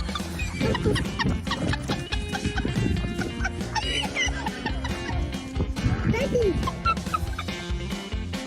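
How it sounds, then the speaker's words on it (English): Village chickens and a hen clucking and gobbling close by, a busy run of repeated calls mixed with other animal noise throughout. "The unpredictable village chicken vying to win the heart of the lone hen in the World Cup."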